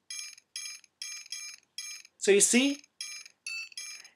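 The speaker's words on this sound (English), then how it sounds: "it's like a short cymbal with a very, very, very nice sound" Short, bright cymbal hits from a beat repeat in an even pattern, each crisp and bell-like, with a brief spoken phrase cutting in between them.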